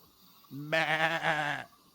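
A goat bleat sound effect: one loud, close, wavering bleat lasting about a second, clear against a quiet background.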